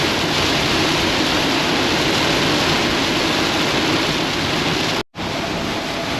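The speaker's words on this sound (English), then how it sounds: "Man, this rain hit like crazy." Dense, roaring broadband wash of heavy rain pounds a cargo van driving on a Houston freeway, loud and constant with a brief cut near the end, no voices.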